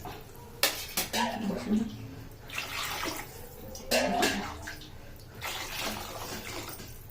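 Hot water is poured from a glass into a cooking pot where oil has risen to the top, with clattering of the pot and utensils and a couple of louder splashing bursts, close up with no talk.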